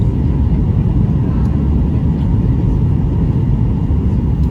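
Cabin of a passenger airplane descending on approach to the runway at Austin, Texas, with a loud, steady low engine and airflow roar that continues without a break and no talk.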